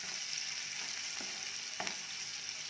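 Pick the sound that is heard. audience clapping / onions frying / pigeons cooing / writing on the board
onions frying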